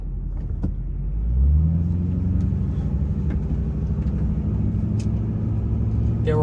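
A car drives past on a road, a loud near rumble that swells early and then holds as a steady low engine drone.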